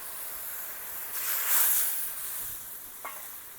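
Soft steady sizzle as a little water goes into a pan of mustard paste fish curry, with the hiss swelling for a moment partway through and a small clink near the end; no talking.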